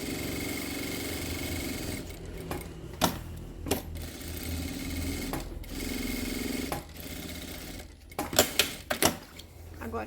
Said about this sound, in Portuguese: você já pode passar uma costura de segurança em toda a volta.